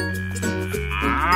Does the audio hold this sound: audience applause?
no